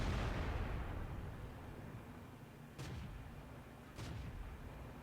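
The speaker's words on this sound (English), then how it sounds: "And artillery's certainly doing their best to ruin our day." Artillery shells strike near a tank in World of Tanks: a fading rumble at the start, then two separate distant booms about a second apart over a low background roar.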